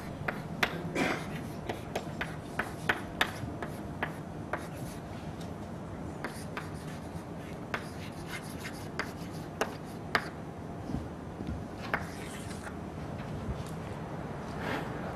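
Chalk or marker writing an equation on a board during a linear algebra lecture, a run of quick taps and scratchy strokes at close range, fairly quiet, with no talking.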